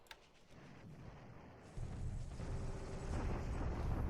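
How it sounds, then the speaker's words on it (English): Artillery bombardment in the War in the Pacific: AE strategy game: a dense, low rolling rumble of distant booms that thickens and grows louder partway through, continuing steadily to the end with no voices. "this is us bombarding him"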